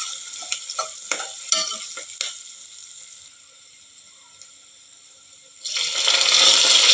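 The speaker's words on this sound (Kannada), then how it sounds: "ಶುಂಠಿ ಬೆಳ್ಳುಳ್ಳಿ ಪೇಸ್ಟ್ ಎಣ್ಣೆಯೊಳಗೆ ಪೂರ್ತಿ ಫ್ರೈ ಆಗಬೇಕು" Ginger garlic paste frying in oil, a bright hissing sizzle with stirring clicks at first, easing to a quieter simmer before a loud, dense sizzle surges back near the end.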